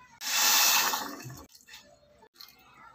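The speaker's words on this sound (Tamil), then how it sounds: "இதில் வந்து ரெண்டரை கப் அளவு தண்ணி விட போகிறோம்." Water is poured into a pan of jaggery, a loud rushing splash for about a second that tapers off into softer trickles and drips.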